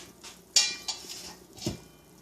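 A spoon and a fork clink against a bowl while working vegan dumpling dough, giving a few sharp metallic taps, one louder near strike followed by softer scattered clicks in a quiet kitchen.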